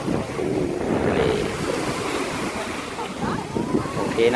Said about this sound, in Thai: พามาชมทะเลหาดจอมเทียน